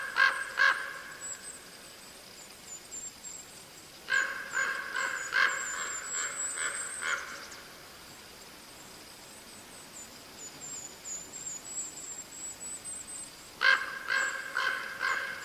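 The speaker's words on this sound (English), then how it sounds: "These are crows." Crows calling in a Sequoia and Kings Canyon forest, harsh repeated caws arriving in three separate bursts over a steady faint background hiss, fairly distant and with no talking.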